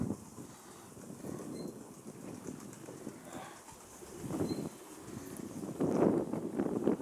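Gusty outdoor wind buffets the microphone in uneven surges, rising strongest toward the end, with faint bird calls in the distance.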